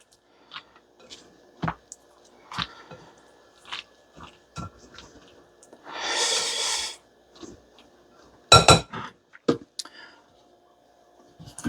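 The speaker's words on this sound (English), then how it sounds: "Mix that up. Mix it all in there good." Macaroni salad with chicken and vegetables being stirred and folded in a bowl, giving soft, wet squelches and scattered clicks, with one longer scraping swish partway through and a sharper clatter near the end.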